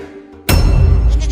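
Goat bleats erupt suddenly and loudly after a quiet moment, a sustained wavering cry close to the listener that carries on to the end.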